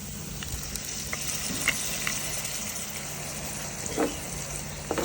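Masala paste for a meal maker cashew masala curry sizzles in a hot oiled pan, a steady close hiss of frying with a few soft clicks and scrapes of stirring.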